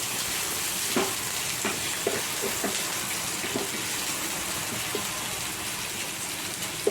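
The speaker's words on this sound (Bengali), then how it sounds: "পেঁয়াজটাকে ভাজা ভাজা করে নিচ্ছি ভালো করে" Onions frying in a pan on a medium gas flame, a steady sizzle broken by scattered spatula taps and scrapes against the pan as they are stirred.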